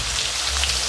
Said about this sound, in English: The oil is hot, we can add our zucchini.